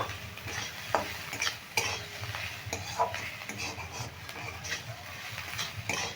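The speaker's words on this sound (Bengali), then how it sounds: "নুন আর হলুদটা দিয়েও ভালো করে এইভাবে কিন্তু অনবরত নেড়ে যেতে হবে" Potatoes and onions with salt and turmeric are stirred steadily in a frying pan for a Bengali aloo posto dish, giving continuous scraping and light sizzling with occasional utensil knocks against the pan, close and moderately loud, with no talking.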